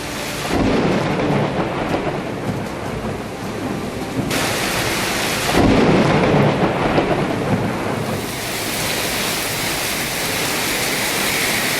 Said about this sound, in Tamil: கடலூர் மாவட்டத்தின் பல்வேறு பகுதிகளில் நள்ளிரவில் பெய்த பலத்த காற்றோடு கனமழை.